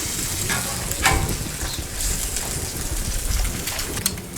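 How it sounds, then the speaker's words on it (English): Sausage patties sizzling steadily on a hot Blackstone griddle as they are flipped, a dense crackling hiss at close range with a few soft scrapes and taps. "Now just go ahead and give them a flip."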